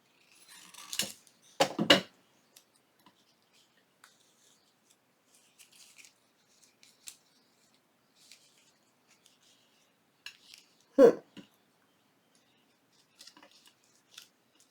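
Scissors snip through paper while making a junk journal: a couple of close, crisp cuts early on, then quiet handling, and one more sharp snip later.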